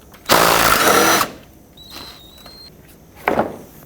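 Power tool spinning out a 10mm bolt during an A/C condenser job on a 2007-2009 Saturn Aura, one loud close burst of about a second, followed by quieter rattles and a brief second buzz.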